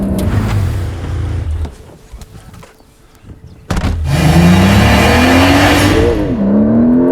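A 2026 Porsche 911 Turbo S, a 711 PS twin-eTurbo T-Hybrid, pulls away hard. Its engine roars close and loud, the pitch climbing steadily through the gears after a brief lull, with no talk.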